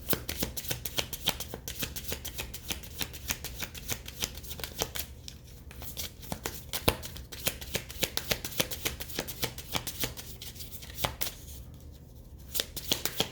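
A deck of tarot cards is shuffled over and over, a rapid run of crisp riffling flicks close by with brief pauses between bursts, heard alone without talking.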